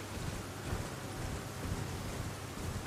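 Steady broadband rain at night in Elden Ring, a dense continuous hiss of falling water with a low rumbling undertone, even and unbroken throughout.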